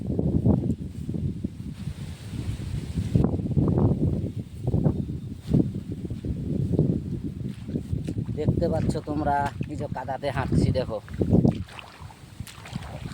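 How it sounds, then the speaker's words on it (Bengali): Strong wind buffets the microphone in heavy, continuous gusts in an open rice field while a person talks close by and footsteps squelch faintly in mud underneath. "প্রচণ্ড হাওয়া হচ্ছে"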